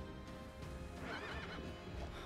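Ghostly horse creature in the Child of Light video game neighing in a drawn-out whinny with hoof-like clatter, set against steady game music with no talk.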